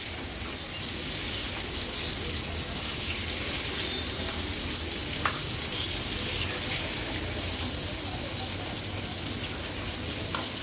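Ribbon fish pieces frying in hot oil in an Agri Koli style fry, giving a steady, dense sizzle that runs evenly and close throughout with no talking.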